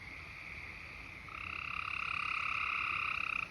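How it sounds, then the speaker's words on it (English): At night, a Gray's tree frog gives a fast, pulsed trill lasting around two seconds, building in strength before cutting off, with a softer chorus murmuring in the background. "That's a Gray's tree frog."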